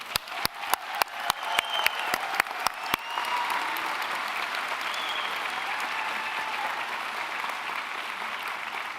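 Applause for medical students at a white coat ceremony: a run of loud, evenly spaced claps close by opens the sound, then it settles into a broad, steady wash of crowd clapping that slowly thins.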